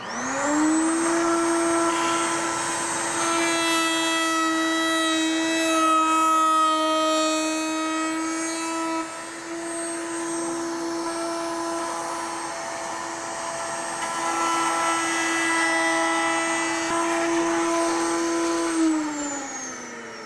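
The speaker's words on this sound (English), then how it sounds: "We'll turn the router on, and we'll come in there and make our rabbet cut all the way around all four sides." A router cuts a rabbet around all four sides of a small workpiece, giving a loud, steady high-pitched whine that holds for about twenty seconds before winding down, with no talking.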